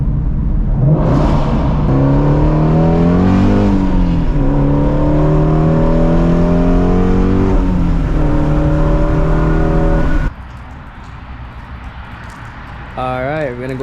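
A Shelby GT350 on a wet night road, its engine revving and accelerating hard with rising and falling pitch for about ten seconds, then dropping off abruptly to a low idle-like rumble with a brief rev at the end.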